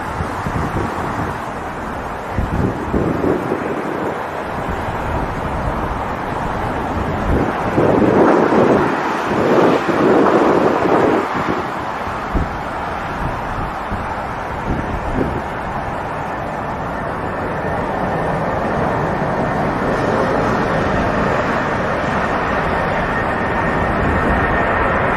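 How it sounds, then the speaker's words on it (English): A British Airways Boeing 747 takes off in a strong crosswind, a loud, continuous roar of jet engines mixed with heavy wind buffeting on the microphone, swelling briefly in the middle and holding steady to the end. "This majestic British Airways Boeing 747 crabs into a strong crosswind during takeoff rotation"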